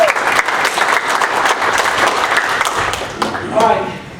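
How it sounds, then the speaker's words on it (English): Audience applause from a crowd at a main event program in Frisco fills the room, sustained and steady, with a voice speaking over it near the end. "Give Rick a round of applause."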